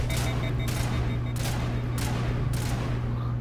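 Gunfire in Mass Effect on PS5 comes as repeated sharp bursts, about five evenly spaced shots over a constant low background hum, with no talk over them.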